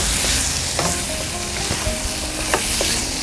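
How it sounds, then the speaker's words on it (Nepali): Ground spice paste sizzles steadily in hot oil for a yogurt fish curry, a loud continuous frying hiss with a few light clicks of stirring and no voices. "अघि भुटेर पिसेको मसला राखिदिउँ। यसलाई पनि मसलामा भुटौँ।"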